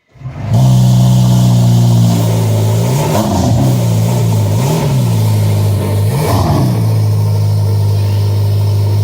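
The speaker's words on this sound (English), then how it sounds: "I'll put in a clip of what the cold start sounds like right now." Cold start of a Ferrari SF90 Stradale hybrid hypercar: the engine fires with a loud bark, settles into a steady, rumbling high idle with a few brief rev swells, heard up close without talk.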